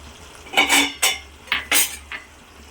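Drumstick and tomato curry stirred with a spoon in a metal pot, several short scraping and clinking strokes in quick succession, close and clear with no talking.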